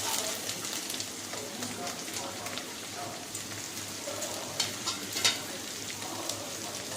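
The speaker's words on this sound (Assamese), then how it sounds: "এতিয়া আমি ধুনীয়াকৈ পিঁয়াজৰ সোণোৱালী ৰং অহালৈকে এইদৰে লৰাই থাকিম।" Sliced onions frying in a pan for a spiced pointed gourd curry, a soft steady sizzle with faint scraping and clinks as they are stirred.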